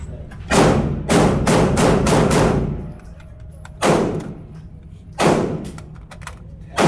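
Gunfire at an indoor shooting range: a quick burst of four or five loud booming shots, then single heavy reports spaced a second or more apart, each ringing out in the enclosed space.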